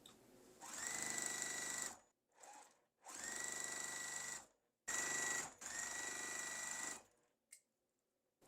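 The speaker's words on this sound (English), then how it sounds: "So let me sew this one" Sewing machine stitching a quilt block in several runs of steady, fast whirring, each lasting a second or two, with short quiet pauses between them.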